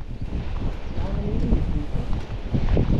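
Steady outdoor wind buffeting the microphone with a low rumble at a fishing spot, with faint voices and movement mixed underneath.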